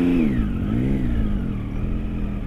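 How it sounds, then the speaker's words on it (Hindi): A motorcycle engine revs up and down while the bike slides a little on sand on a Ladakh route from Leh to Tso Moriri. The engine is close and loud, its pitch rising and falling, with no talk. "भाई, बाइक तो फिसल रही है हल्की हल्की"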